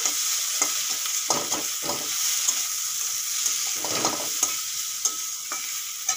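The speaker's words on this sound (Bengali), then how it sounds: "গুঁড়ো মশলা দিয়েও 2-4 মিনিট ভেজে নেব।" Ground spices such as coriander and cumin fry in oil for an egg and potato curry, with a steady close sizzle and repeated scraping stirs of a spoon against the pan.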